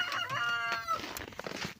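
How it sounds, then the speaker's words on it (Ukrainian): Roosters on a small homestead, among them a Poltava Silver cockerel, crow in a drawn-out call nearby and then cluck in short, uneven bursts. "це мої півнички"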